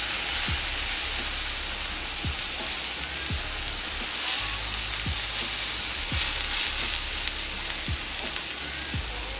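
Hash browns frying in grease in a country skillet after flipping, a steady loud crackling sizzle with soft low thumps recurring roughly every second beneath it.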